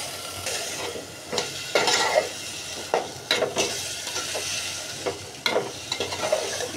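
Bitter gourd and potato pieces fry in a pan of cooked-down spice paste, with a close, steady sizzle broken by repeated scraping stirs of a utensil against the pan.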